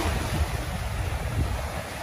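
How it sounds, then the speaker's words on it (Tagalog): Strong waves surge and break along the dolomite sand beach of Manila Bay, a steady loud roar of surf with wind buffeting the microphone throughout, no voices. "Humahambalos ang lakas ng alon."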